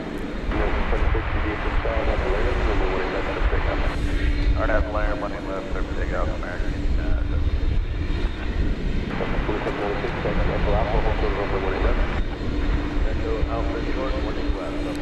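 Airplane engines rumble and whine steadily as a plane arrives at DFW Airport on the eve of Christmas, with people talking over the jet noise throughout.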